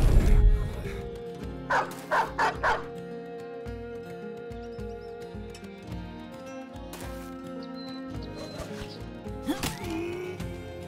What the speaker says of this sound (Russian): А у меня собака выпущена.